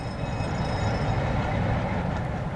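A Freightliner container freight train runs on rails in late-1960s Britain, a steady loud rumble of wheels and wagons holding constant throughout with no voices.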